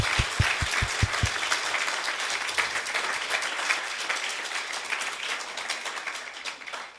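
A church congregation applauds the Lord, opening with a few loud distinct claps that swell into dense, sustained clapping filling the room, with no speech over it.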